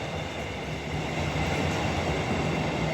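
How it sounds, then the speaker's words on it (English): A train rolls past at Nuneaton station, a flat wheel on one of its cars, producing a steady loud rumble and rattle that fills the whole stretch with no voices. "Lovely flat wheel there."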